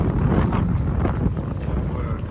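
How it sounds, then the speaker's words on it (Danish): Strong wind roars across the microphone while sailing, a dense continuous rumble with gusty swells over a couple of seconds, a voice briefly audible underneath. "Og jeg skal love for, at det blæser op."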